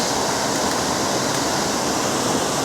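Steady, dense roar of Linn Falls pouring over rock, a broadband rushing wash holding even and unbroken throughout, fairly loud with no voices.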